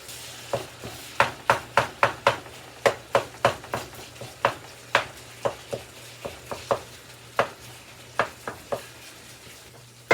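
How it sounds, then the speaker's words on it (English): Steady series of sharp scraping taps as a utensil chops ground meat in a pan, roughly two per second, over a soft sizzle. "this thing is really good at chopping up the meat"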